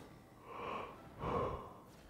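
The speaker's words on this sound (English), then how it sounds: "what is with me recording and yawning?" A person yawns during a gaming session, giving two drawn-out breathy exhalations, soft and close, with no words spoken.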